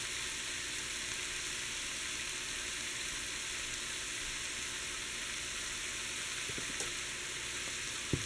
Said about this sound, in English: You just want to mix this up and brown your meat really well.